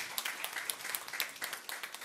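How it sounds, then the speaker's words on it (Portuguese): A small crowd claps for construction workers at a municipal council session, a steady patter of hands at moderate distance, continuous and fairly soft throughout. "Uma salva de palmas para os trabalhadores da construção civil pelo aniversário."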